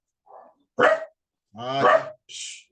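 A pet dog indoors gives a few sharp barks spaced apart, one short faint yap then louder, close barks with brief silences between, no talking alongside.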